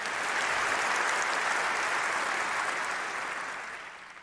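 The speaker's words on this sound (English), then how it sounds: "let's maybe give them a round of applause for completing the program" An audience claps in sustained applause for program graduates at a tech conference, a dense, even wash of hands that holds steady and then starts to fade near the end.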